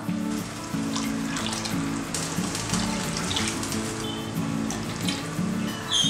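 A steady stream of water pours and splashes into a cooking pot of fish biryani for several seconds, continuous and fairly loud, with a faint hum underneath.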